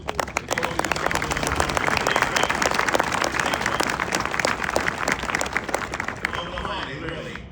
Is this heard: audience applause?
yes